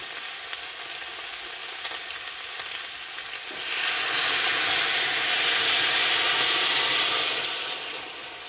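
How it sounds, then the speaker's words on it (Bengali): Fried spiced vegetables sizzle in a pan for a fish curry, then water is poured in and the sizzle swells into a loud, steamy hiss that holds steady before easing slightly. "সবজি মশলা ভালো করে কষানো হয়ে গেছে, দিয়ে দেবো জল"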